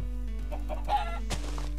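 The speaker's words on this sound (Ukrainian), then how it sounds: "І, до речі, ще є кури." Minecraft chickens cluck softly in a few short bursts over a steady low electronic hum, with a slightly louder squawk near the end.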